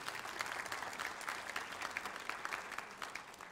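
Steady applause from a concert audience at a Silesian schlager music show, dense clapping that holds at an even level for a few seconds with no voices over it.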